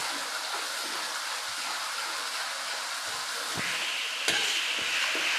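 Ginger garlic paste frying in hot oil for chicken semi fry, giving a continuous close sizzle with a few sharp scrapes and taps of a spoon stirring the pan.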